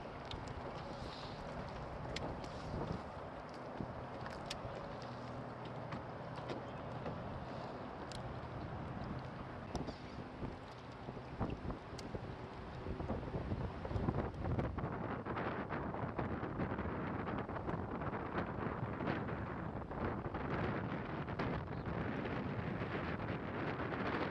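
Wind blowing across a lake buffets a boat during spring bass fishing, a steady, loud roar with microphone rumble and occasional gusts and knocks, continuous throughout with no talk.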